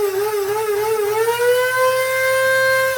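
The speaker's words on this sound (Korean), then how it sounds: "갈아보시면은 되게 약간 맷돌 갈리는 소리가 들리는데" A budget home espresso machine's grinder grinds coffee beans with a loud, steady motor whine that climbs slightly in pitch, heard close up with a faint low rumble underneath and no talking.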